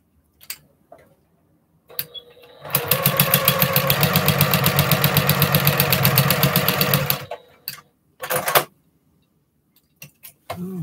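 A sewing machine stitches a postal stamp quilt top in one loud, steady run of rapid rhythmic needle clatter lasting several seconds, with brief handling knocks before and after.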